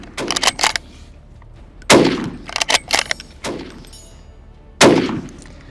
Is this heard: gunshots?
yes